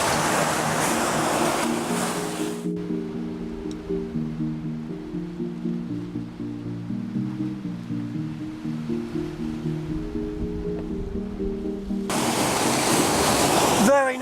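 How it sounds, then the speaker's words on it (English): Ocean waves break over rocks on the Okinawa coast, a loud, broad rush of surf at the start and again at the end, with a quieter tonal, music-like passage in between. "got these lovely waves hitting over all of these rocks here"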